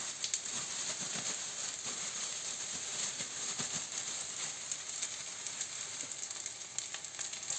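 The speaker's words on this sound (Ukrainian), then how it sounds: "Будемо смажити." Meatless breaded cutlets sizzle and crackle in a frying pan, a steady close hiss with scattered pops and light clinks, no talking.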